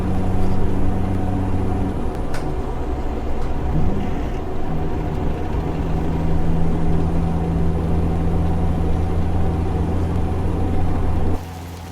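A heavy truck's 600-horsepower Caterpillar C15 engine in the video game American Truck Simulator drones at a steady low rumble with a constant hum. It is loud and unchanging, then cuts off abruptly near the end.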